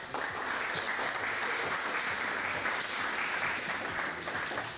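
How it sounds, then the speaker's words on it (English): An audience at a school competition match claps for the judges, a continuous, even round of applause that carries on steadily throughout. "Let's give them a round of applause."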